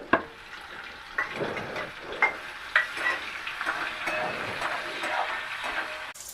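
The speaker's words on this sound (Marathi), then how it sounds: "आता तेल गरम झालंय त्याच्यात जिरं टाकलं कारण तीन चार कढीपत्त्याची पानंही टाकून टाकते" Cumin, curry leaves, garlic and onion frying in hot oil for a Konkani jackfruit dish, a close sizzling hiss punctuated by several sharp stirring scrapes and spatters.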